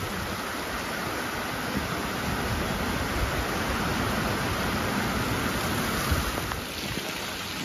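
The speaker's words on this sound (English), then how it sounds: "Look at the rain now. It's getting loud" Heavy rain pouring steadily in the open on Tuvalu, a dense loud hiss that stays constant throughout with no voices.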